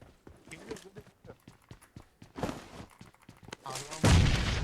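Gunfire and a grenade blast in PUBG Mobile on the Livik map, scattered sharp shots and thuds building to a loud, booming explosion near the end, with players talking over it.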